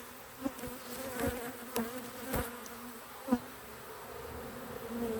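Honey bees buzz steadily around a backyard hive, a continuous low insect drone with occasional louder passes as individual bees fly close to the microphone.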